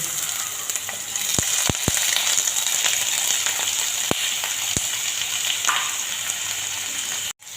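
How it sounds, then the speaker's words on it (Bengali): Potatoes go into hot oil with dried chillies in a pan and fry with a loud, continuous sizzle, broken by a few sharp knocks of the utensil against the pan, close by and without talk. "এবার দিয়ে দিচ্ছি আলু"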